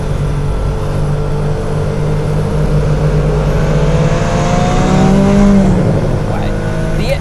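A car engine revs hard and drops back while driving, a loud continuous roar with rising and falling pitch, voices talking underneath.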